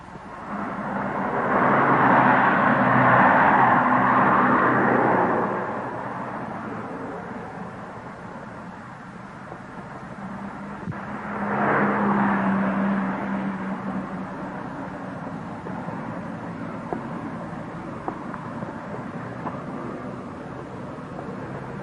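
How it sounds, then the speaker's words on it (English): Traffic surges across new road flyovers by a housing estate, heard from a distance as broad rumbling swells that rise, fade, and return over a steady background hum. "the people of Fontenoy Gardens watch the daily surge of traffic on the new flyovers"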